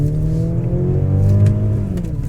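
A 2023 Mercedes-Benz GLC 300 AMG Line produces a loud, steady engine drone with a rising revving tone, partly piped through the car's cabin speakers, heard alone without speech.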